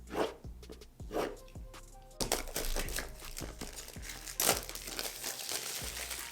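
Soundpeats Air 3 Deluxe HS earbud packaging is handled and opened up close, with repeated crisp crinkling and crackling of plastic and cardboard, steady and fairly loud throughout.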